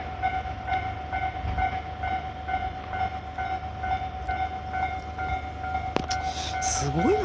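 A train rumbles steadily past the Hibarigaya level crossing on the Saikyo and Tobu Tojo lines while the crossing bell rings in an even, repeating rhythm. A sharp clack and a rising tone come near the end, with voices nearby.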